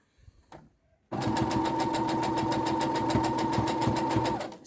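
Sewing machine running steadily for several seconds, stitching fabric around a small circle for a tiered dress, a fast even mechanical rattle that starts abruptly after a brief quiet moment of handling noise.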